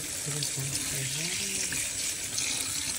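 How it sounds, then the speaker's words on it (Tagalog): Tap water runs steadily into a sink while foraged wild garlic is rinsed, a close, continuous splashing gush, with a faint voice or tone briefly audible near the start. "Hugasan lang natin ito lahat."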